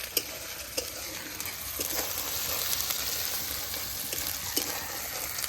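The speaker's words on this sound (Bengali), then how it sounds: "পেঁয়াজ রসুন জিরে মরিচ বাটা আদা বাটা সব দিয়ে আমি হচ্ছে মশলাটা কষাচ্ছি ভালো করে" Spice paste with onion, garlic, ginger, cumin and chili sizzles in hot oil with bay leaf while a spatula scrapes and stirs it, sharp scraping clicks punctuating a steady, moderately close frying hiss.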